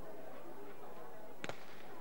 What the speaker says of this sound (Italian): Ecco lo sparo, partita la prima serie dei metri 200 donne